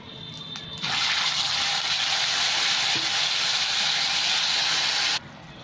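Grated tomatoes hit hot oil for dal kofta, bursting into a loud, steady sizzle that holds for about four seconds and then cuts back to quiet.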